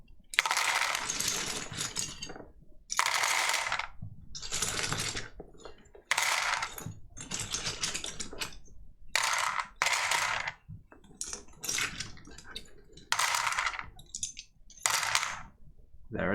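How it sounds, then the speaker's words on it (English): Plastic keyboard keycaps are poured into a Tupperware container in several separate bursts, each a dense clattering rattle of many small pieces, close and fairly quiet, with short pauses in between and no speech. "Let us put all of these keycaps in there."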